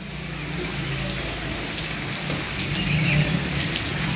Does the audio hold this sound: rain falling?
yes